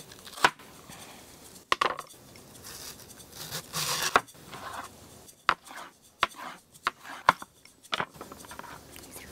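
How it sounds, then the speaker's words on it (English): Knife chopping bamboo shoots on a board, close sharp cuts coming in irregular clusters with short pauses, soft kitchen handling noise in between and no talking. "I'm gonna go ahead and chop up just a little bit of my bamboo shoots"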